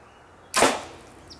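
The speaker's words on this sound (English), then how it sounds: "This is camouflage arrow with razor blade broadhead versus hot water" A camouflage arrow with a razor blade broadhead strikes a hot water heater in a single sharp, loud metallic impact that rings and fades over about a second.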